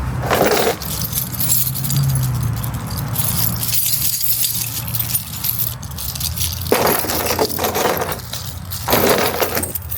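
Metal keys jangle and rattle in a cluttered food trailer during a junk clean-out, bright clinking bursts close by over a steady background noise, with louder flurries near the start and again toward the end.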